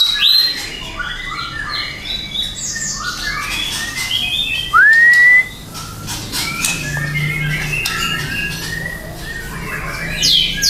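Pet songbirds chirp and sing steadily, with bright whistled notes, rising calls and quick tweets layered over one another close by, sounding like several caged birds at once over a low background hum.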